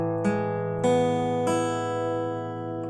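A guitar chord, E with an A in the bass, is struck three times in slow succession up close. Each strike rings out and decays gently, with no speech.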